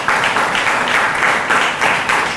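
An audience at a gathering breaks into applause, a steady wash of clapping with light rhythmic swells, loud and close, no voices over it.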